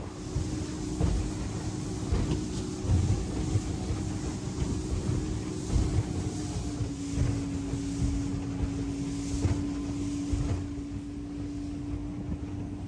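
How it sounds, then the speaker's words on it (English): A steady motorboat engine drone hums beneath gusting wind on the water near Astoria, Oregon, with a sustained engine tone holding through the middle; no one speaks. "This is Ken's boat"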